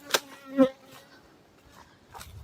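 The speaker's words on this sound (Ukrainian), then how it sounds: "Бджілки наші працюють з самого рання і пилок, і нектар носять." Honeybees at a migratory apiary beside sunflower fields buzz in a few brief, close passes, with quieter gaps between them.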